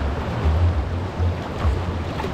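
Ocean waves wash and surge close by on a beach in Agno, Pangasinan, in a steady, rushing wash of water, with wind buffeting the microphone.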